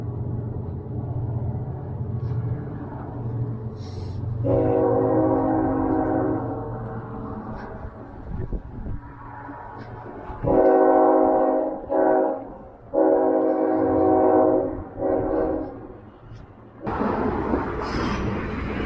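A freight train rolls past with a mid-train DPU locomotive, its horn sounding in several loud, sustained blasts over a steady rumble of rail cars, heard from a high vantage point.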